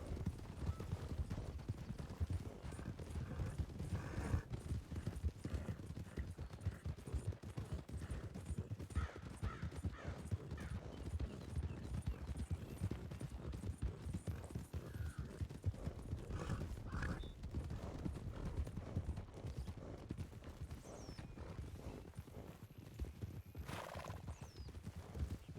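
Hooves clip-clop steadily at a walk throughout a ranch roleplay video game, with a horse neighing and whinnying now and then, fairly close and at a moderate level with no talking.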